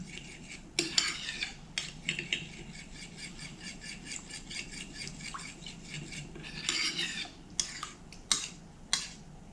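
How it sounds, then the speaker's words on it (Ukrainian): A spoon stirs cold milk into a coconut cake mixture in a bowl, giving repeated scraping and clinking against the sides in an uneven rhythm, close up and fairly quiet, with no speech. "Тепер вливаємо молочко, холодне молочко та перемішуємо."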